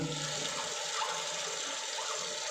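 A toilet cistern refills with water after a flush, giving a steady hiss and gush of water running at moderate volume throughout, with no voices.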